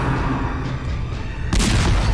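A cannon in the video game Darkest Dungeon fires once: a single heavy boom after a stretch of low rumbling game ambience, with a broad, loud blast that lingers to the end.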